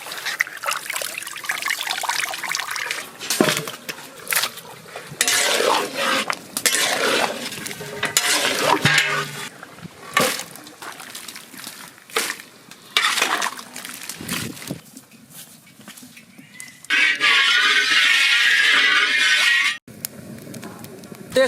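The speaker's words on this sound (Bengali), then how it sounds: "আর একবার পরিষ্কার জল দিয়ে ধুয়ে নেবো।" Food being rinsed in clean water for a village-style ash gourd curry with katla fish head: irregular splashing, trickling and clinking of a metal pot, with a steadier stretch of running water near the end, close and fairly loud.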